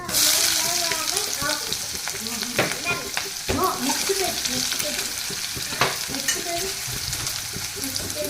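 Chana dal, urad dal and onion sizzle and crackle in hot oil for beetroot curry, with close, loud frying hiss and intermittent stirring scrapes and clinks.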